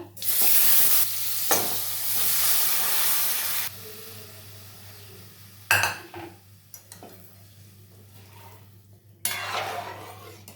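Dal with chal kumro cooks in a pan with a little hot oil, a loud rushing sizzle for several seconds, then quieter bubbling broken by sharp clanks and scrapes of a spoon against the pan, and no talking.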